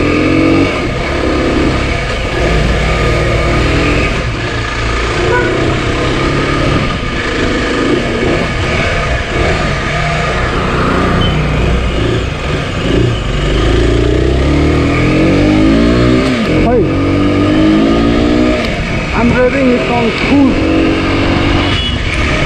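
An Aprilia RX 125 motorcycle engine runs steadily on a test ride, with a continuous rumbling drone and a rising rev near the end, mixed with road and traffic noise and some talking.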